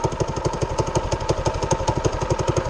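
A Manco Thunderbird go-kart engine runs with a fast, steady put-put pulse, close and fairly loud, with no voices.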